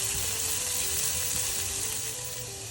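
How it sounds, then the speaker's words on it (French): Prosciutto crudo sizzles and fries steadily in a pan over medium heat, a close, continuous crackling hiss with no talking. "Là, on fait bien dorer le jambon."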